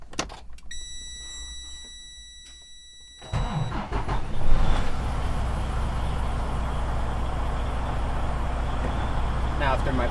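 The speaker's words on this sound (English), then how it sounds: "Now I can safe start my vehicle." A truck's diesel engine turns over and catches partway through, then settles into a loud, steady idle. A few high electronic warning tones sound before the start.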